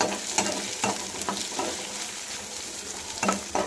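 Chopped onion frying with garlic in a pan for mushroom pepper dry, a steady close sizzle broken by several sharp stirring scrapes.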